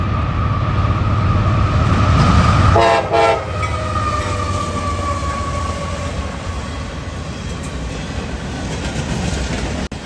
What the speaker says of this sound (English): The crisp K5LA Doppler was a nice treat as well on that veteran unit.